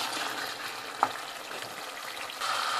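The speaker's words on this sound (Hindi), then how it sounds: "ये गोश्त गल चुका है और अब मैं इसको भून रही हूँ।" Meat browning in a pan for daigi korma, a soft continuous sizzle with a brief stirring clack partway through and the frying swelling slightly toward the end.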